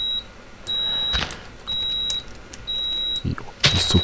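Repeated electronic alarm beeps from a Minecraft game, a steady high tone sounding in three long spaced pulses with short chirps, plus a burst of noisy clatter near the end; a voice comes in briefly.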